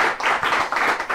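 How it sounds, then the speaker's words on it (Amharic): A short burst of warm audience applause greets a guest on an Ethiopian television studio show, with many hands clapping in a brief wash of sound. "ሞቅ ያለ ጭብጨባ"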